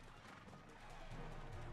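A Hog Rider deployed in Clash Royale brings a faint, busy burst of game effects with a whinny-like cry and galloping hoof clatter under low background noise.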